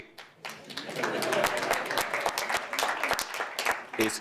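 An audience at a European conference breaks into applause mid-speech, a swell of clapping that builds after a moment and holds steady, with scattered individual claps and some voices mixed in.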